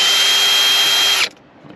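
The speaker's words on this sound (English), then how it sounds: "take our drill and we're going to pull the T20 out of its hidey hole here" A power drill backs a T20 screw out of a 2017 Jaguar F-Pace door, a loud, steady whine that runs alone for about a second and a quarter and then cuts off into quiet.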